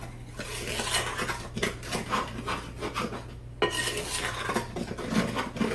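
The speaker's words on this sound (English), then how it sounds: "So I'm going to give it a good mix just to make sure everything is well mixed." Strawberry shortcake biscuit batter mixed by hand in a bowl, with steady scraping and rubbing of a utensil against the bowl. The strokes are close and repeated, and no one talks.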